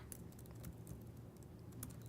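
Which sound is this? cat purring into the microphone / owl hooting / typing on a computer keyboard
typing on a computer keyboard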